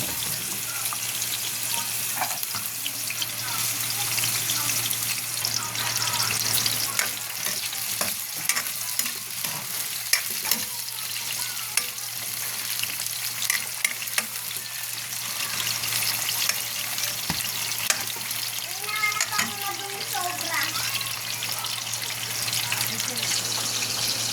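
Pork spareribs fry in a pan with a steady, close sizzle and crackle. Sharp pops and occasional stirring clatter break through, and a faint voice speaks briefly underneath.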